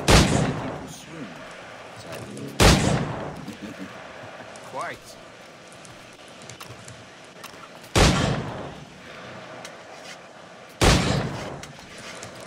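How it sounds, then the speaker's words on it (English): Pistol shots in Assassin's Creed IV Black Flag, four sharp, loud single bangs spaced several seconds apart, with a voice talking briefly between them. "Pull off a few shots if you like."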